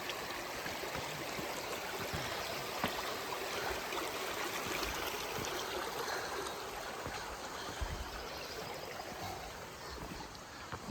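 Stream water flows along the Appalachian Trail in spring, a constant close rushing and trickling with occasional splashes and footsteps.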